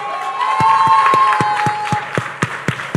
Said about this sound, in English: Can we please kindly be upstanding and give a rousing, warm hand clap to the Honorable Lisa T. Ramming